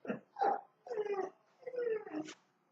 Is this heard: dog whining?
yes